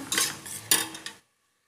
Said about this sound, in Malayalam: കുറച്ച് എണ്ണ ഒഴിച്ചു. അതിന് ശേഷം 2 വലിയ ഉള്ളി ചെറുതായിട്ട് പൊടിയായി അരിഞ്ഞത് ഇട്ടു. നന്നായി വഴറ്റുക.